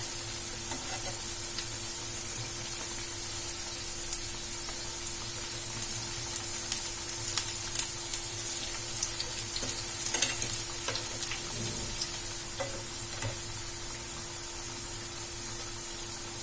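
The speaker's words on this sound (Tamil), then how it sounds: "இப்ப இது ஃப்ரை ஆகட்டும்." Homemade evening snacks frying in hot oil, a steady close hiss and crackle that runs throughout, with occasional faint taps and bubbling pops.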